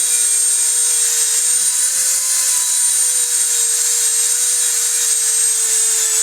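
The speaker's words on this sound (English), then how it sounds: "Sounds like a dentist drill" A rotary tool polishing a coin ring to full shine, a continuous high-pitched whine with a steady grinding hiss, loud and close with no break.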